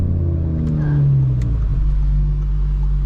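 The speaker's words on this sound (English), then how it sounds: "it's a very loud car. It's kind of like this thundery sound" A loud Audi RS3 exhaust booms while driving, a deep continuous thundery rumble with a rising then settling engine note, heard up close without speech.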